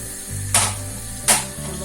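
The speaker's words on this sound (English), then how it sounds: "When it starts to froth and it's all melted, you can then add your onions and garlic." Onions dropped into frothing melted butter in a pan, a steady low sizzle broken by two short bright spitting bursts, close and with no talk.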